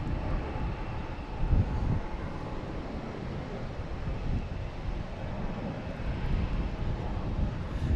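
A Delta A220 airliner lands on runway 9 at Logan Airport, heard as a broad, steady jet engine roar with wind rumble, moderately distant and continuous throughout.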